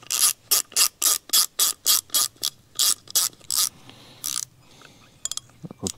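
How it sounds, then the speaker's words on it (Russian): An Okuma carp fishing reel's drag clicks loudly and rhythmically as it is turned and tested at a fishing and hunting exhibition, a fast series of about a dozen ratcheting bursts close up, then quieter fumbling. "Давайте посмотрим фрикцион, насколько я уже пробовал."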